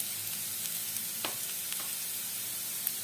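Mustard greens fry in a pan as spices are stirred in, a constant close sizzle with a few light scrapes of the spoon.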